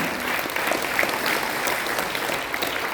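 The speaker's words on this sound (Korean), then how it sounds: "멋진 말씀해주신 우리 이정민 차장님께도 뜨거운 박수를 보내주시기 바랍니다" An audience at a Korean rally of national elders claps warmly after a speech, sustained dense applause at an even level from start to finish.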